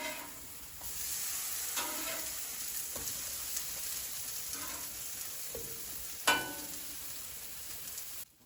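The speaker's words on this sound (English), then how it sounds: "Let's give those patties a flip and let them cook for another few minutes on this side." Plant-based burger patties sizzling in a hot pan, a steady frying hiss with a few light spatula clicks and taps as they are turned, close by.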